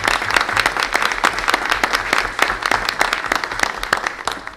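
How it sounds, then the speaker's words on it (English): A city council meeting audience claps for a resident, with distinct close individual hand claps over a broader patter, steady throughout. "Can we recognize Emily and give her a round of applause?"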